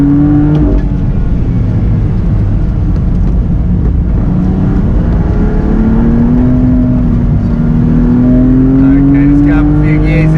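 A car revs and accelerates through the gears during stunt driving training on a track, its engine tone rising and falling steadily and loud throughout, with a voice speaking over it.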